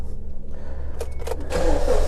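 A 2003 Holden Cruze with a noisy belt under the bonnet is started: a low steady hum, a few clicks and a whirring crank around the middle, then the engine catches into a louder, fuller idle.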